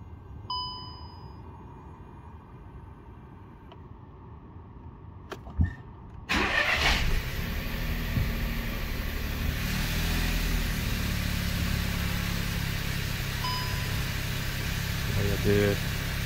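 A 2018 VW Golf Mk7.5 cranks and fires up after a battery replacement, a short starter burst followed by a steady, fairly quiet idle, with a few electronic chimes before and near the end.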